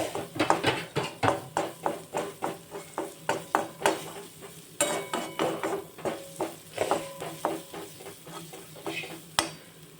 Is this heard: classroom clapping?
no